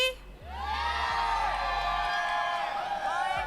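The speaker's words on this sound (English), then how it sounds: "Wanna hear some of the shout from the Filipino crowd?" A Filipino crowd at an esports watch party lets out a long, sustained shout and cheer, loud and continuous, with voices whooping together and swelling before tailing off.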